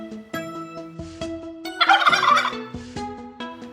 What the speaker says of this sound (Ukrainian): А так кричить індик.